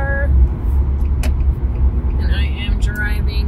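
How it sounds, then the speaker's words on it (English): Inside a moving car on the way to work, a low steady road and engine rumble runs throughout, with a few small knocks and rattles on top. "I am driving to work."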